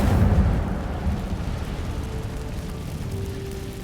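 Incendio fire spell cast in Hogwarts Legacy, a deep rumbling whoosh of flame that bursts loud at the start and then settles into a sustained roaring crackle as it fades slightly.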